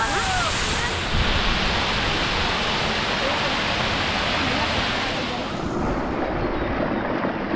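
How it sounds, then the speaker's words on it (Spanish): A broad, constant roar of a waterfall on the Río Verde near Otívar, Granada, fills the whole stretch, loud and unbroken, easing slightly near the end. "nos encontramos con una nueva cascada"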